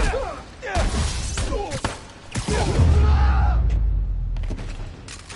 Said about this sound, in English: Firing on Spider-Man